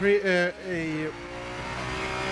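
Race car engine in the video game Project Motor Racing, a loud revving rise and fall with gear shifts, then a steady drone as someone talks over it.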